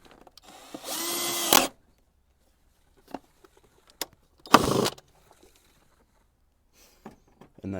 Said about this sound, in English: It's for cutting holes in plasterboard. Hopefully, it should do the trick on this plastic.